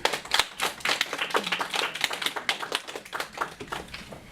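An audience at a public speaking contest claps for volunteer judges, giving dense, steady applause from many hands at moderate distance that continues for several seconds without talk.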